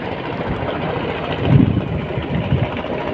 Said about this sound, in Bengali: অনেক কাজ দিয়ে ট্রলার যাচ্ছে